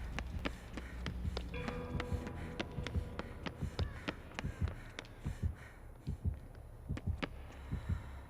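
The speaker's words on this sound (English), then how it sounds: "Oh, I got a heartbeat now." Killer's heartbeat warning in Dead by Daylight, a steady thumping pulse repeating through the clip with faint game ambience around it.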